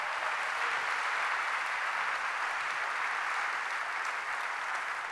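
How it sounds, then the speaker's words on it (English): Dense, steady applause from a large audience at a workplace summit conference, loud and continuous throughout with no voices over it. "Let's just give that a round of applause."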